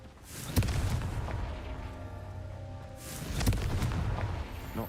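Confringo fire spell from the video game Hogwarts Legacy bursting in two loud booming blasts about three seconds apart, each with a rumbling tail over steady game ambience.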